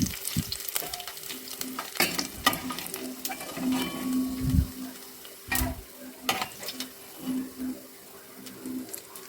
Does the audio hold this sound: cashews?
yes